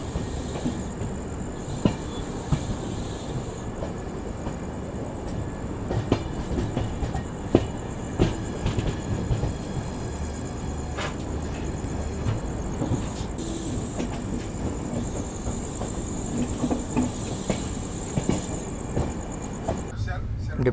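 Summer special train with LHB coaches running on rails between Yeshwantpur and Vijayapura, a loud continuous rumble with clickety-clack wheel rhythm and occasional high wheel squeals, heard from on board.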